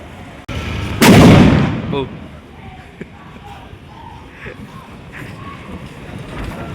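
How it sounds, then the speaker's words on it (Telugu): A single loud bang bursts nearby, like a firecracker going off inside a cinema hall, then fades into quieter background noise with faint scattered pops. "ఇక్కడ క్రాకర్స్ కాలుతామండి"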